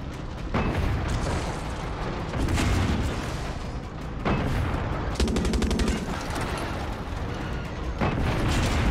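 A tank battle in Far Cry 6 erupts with heavy gunfire: repeated loud booming cannon blasts and rapid machine-gun bursts, close and dense, with rumbling low end between shots.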